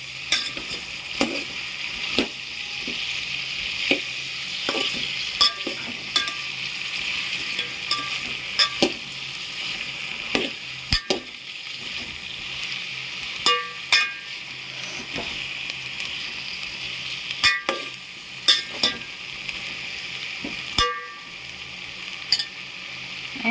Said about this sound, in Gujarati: હવે આપણે એને હલાવી નાખવાનું છે. આ રીતે આપણે હલાવી નાખવાનું.